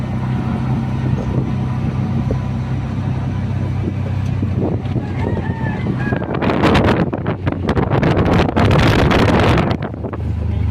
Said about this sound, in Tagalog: Ano, grabe ang hangin.